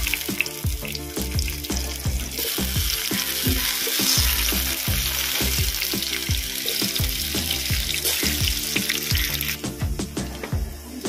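Large potato chunks frying in hot mustard oil, a continuous bubbling sizzle with repeated clacks and knocks of a utensil against the pan throughout.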